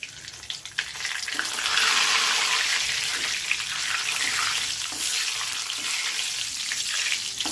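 Panch phoron and two dried red chillies frying in oil, a dense, bright, hissing sizzle that swells after a second and stays steady and loud, close by with no voices.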